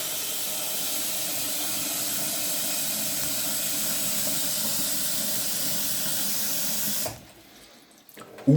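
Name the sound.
filling a saucepan with tap water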